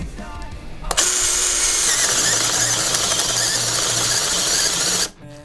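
A Makita impact driver runs in drilling mode at first speed, a steady high-pitched whir and hum that starts abruptly, holds loud and even for about four seconds, then cuts off.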